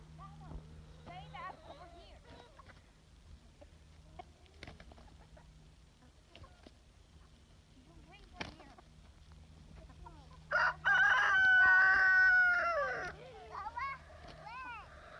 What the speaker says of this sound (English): Oh, chicken fight.